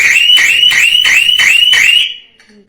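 A home anti-theft door alarm rings loudly in rapid repeated electronic beeps, about six pulses over two seconds, then cuts off into near silence.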